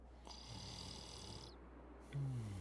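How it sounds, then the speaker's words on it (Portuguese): A sleeping character in the video game Honkai: Star Rail snores in a steady, drawn-out rhythm, with a louder snort-like breath near the end over faint game ambience. "Tá roncando."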